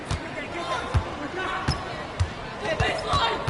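A basketball bounces on a hardwood court in NBA 2K26 gameplay, sharp dribbles at an irregular pace, roughly eight thuds over a few seconds, with crowd and arena ambience behind.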